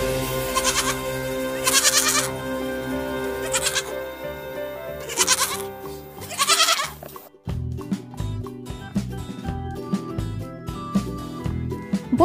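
A goat kid bleats in several loud, wavering calls over the first seven seconds, each cry separated by short pauses, with music playing underneath and continuing on its own afterward.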